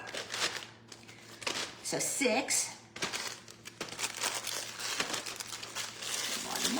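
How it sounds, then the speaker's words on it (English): Cookies being crushed with a rolling pin inside a plastic Ziploc bag, giving loud crinkling and crunching bursts of plastic and crumbs, repeated irregularly with a person speaking briefly. "I'm gonna use just a plastic bag and a rolling pin to smash my cookies in here."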